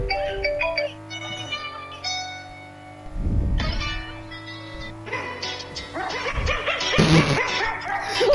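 The tune performed with barking dog sounds, playing as music over in-game racing audio in Need for Speed Heat; yips and barks form the melody, fairly loud, with brief bursts of engine and crash noise.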